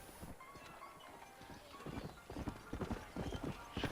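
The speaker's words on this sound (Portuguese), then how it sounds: "Escutei o galope, tá aqui." Hoofbeats of a galloping horse in the Red Dead Redemption video game, a steady clip-clop rhythm growing louder and closer over a few seconds, with faint background ambience and no talk.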